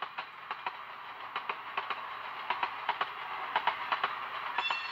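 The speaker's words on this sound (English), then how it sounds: "Also some wheel flange sound in there." SoundTraxx Tsunami digital sound decoder on a model train car playing a rhythmic clickety-clack of wheels over rail joints, repeating in quick pairs at a steady pace, with faint wheel flange squeal underneath, fairly quiet and alone.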